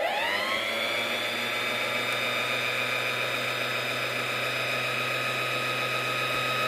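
A Singer Heavy Duty 4432 sewing machine winds a bobbin with a steady, high whirring hum that spins up quickly and then holds at a constant, moderately loud pitch without pause.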